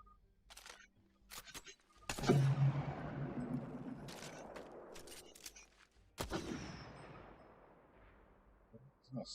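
Gunfire from a gun in the video game Apex Legends, two sharp loud shots a few seconds apart, each trailing off into a long echoing decay, with scattered small clicks in between.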